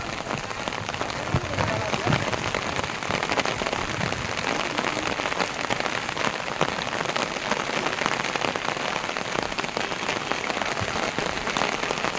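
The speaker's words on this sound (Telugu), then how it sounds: "విజయవాడలో శుక్రవారం నుంచి ఎడతెరిపి లేని వర్షం పడుతుంది" Heavy, unceasing rain in Vijayawada pours down as a dense, even roar of drops hitting hard surfaces, loud and constant throughout with no pause.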